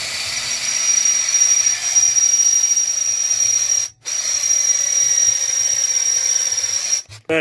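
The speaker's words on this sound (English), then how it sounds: "I'm just gonna start working up the sizes of these holes here with different bits." A cordless power drill runs continuously with a steady high whine while enlarging holes in a metal bracket with progressively larger bits, close and loud, cutting out briefly near the middle and again at the end.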